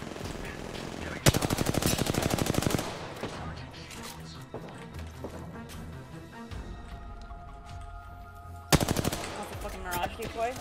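Rapid automatic gunfire from a firefight in the battle royale shooter Apex Legends: two loud, dense bursts of machine-gun fire, one early and one near the end, with quieter game sounds between.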